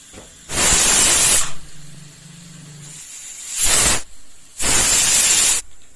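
A pressure cooker cooking methi peas pulao on a stove lets out three loud, hissing steam whistles, each lasting about a second. A quieter low hum runs between the first and second blasts.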